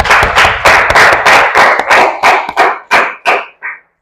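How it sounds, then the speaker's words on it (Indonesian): Students in a classroom lesson clap loudly in a series of about a dozen rhythmic, close bursts that thin out and stop. "Kasih tepuk tangan untuk kalian semua."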